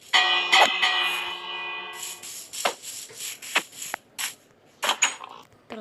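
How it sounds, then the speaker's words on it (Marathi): A bell rings in a Minecraft game, a sustained clang that fades over about two seconds, followed by scattered clicks and shuffling sounds. "घंटा वाजून सगळ्यांना आतमध्ये पाठवतो"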